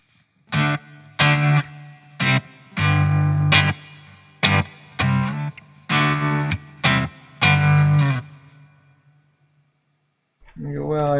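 Electric guitar played through free amp simulator plugins with bright crunch and tremolo, in about nine separate distorted strummed chords that ring briefly and are split by short silences, with a voice starting at the end.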